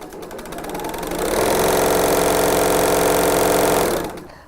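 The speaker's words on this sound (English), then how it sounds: "The BERNINA L890 come with DC motor and BERNINA foot control, sewing between 250 and" A BERNINA L890 overlock and coverstitch combo machine with a DC motor and foot control sews in one continuous run, ramping up to a loud, fast, steady buzzing whir, holding for a few seconds, then winding down.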